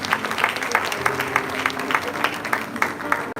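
A crowd claps steadily for a few seconds at a university award ceremony, fairly close and moderately loud, then the applause stops abruptly.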